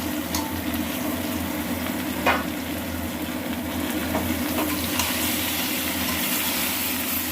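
Ridge gourd and tomato sautéing with spiced potatoes in a pan, a dense continuous frying sizzle with a low steady hum beneath and an occasional stir, no talking.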